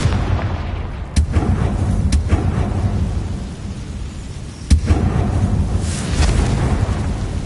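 Confringo blasting spell in the video game Hogwarts Legacy: sharp explosive bursts near 1.2, 2.1 and 4.7 seconds over a rumbling, noisy game backdrop, each blast loud and close.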